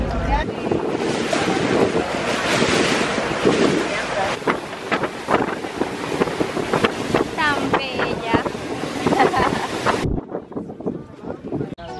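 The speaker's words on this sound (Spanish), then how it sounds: "Ya estamos en la lancha." Strong wind buffets the microphone while a motorboat engine drones on the sea and water splashes against the hull; voices speak briefly, and the roar cuts off near the end.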